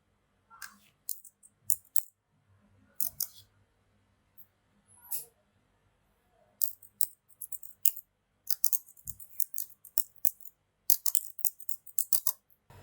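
Irregular bursts of keystrokes on a computer keyboard while a message is typed, short clusters of clicks scattered with pauses and growing busier toward the end, fairly close and quiet.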